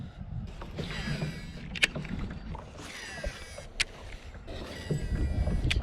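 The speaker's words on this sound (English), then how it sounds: "the sound of that reel is really entertaining" A Shimano Curado DC baitcasting reel whirs and whines during casts, its spinning buzz rising and fading over gentle water and outdoor ambience, with a few sharp clicks.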